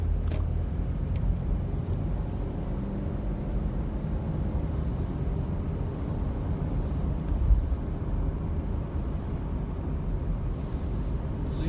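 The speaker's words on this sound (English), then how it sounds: "you guys can see all different types of cars cruising through, not having any problem" Steady rumble and hiss of cars driving along wet Highway 18 in heavy rain, climbing toward Big Bear at 7000 feet, a continuous wash of tire spray and engine noise with no clear gaps.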